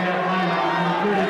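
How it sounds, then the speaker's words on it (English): Basketball crowd at an EastWest vs McKendree college game letting out a sustained groan, a dense wash of many voices holding steady for about a second. "You probably can hear the groans from the crowd"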